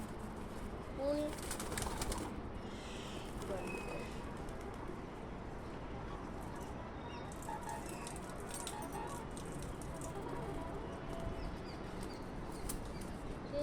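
Pigeons feeding on scattered grain make a dense, continuous flutter of wings and soft cooing nearby, a busy outdoor bustle with a brief burst of flapping early on.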